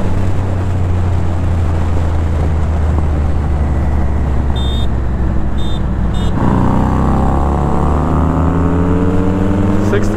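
A Triumph Street Triple RS motorcycle pulls hard in sixth gear on an open road, its engine a loud, steady drone that climbs in pitch, under heavy wind rush and voices.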